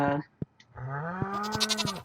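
Goat bleats from Stardew Valley, a short call, then a long wavering bleat with pulsing cries near the end, loud and close.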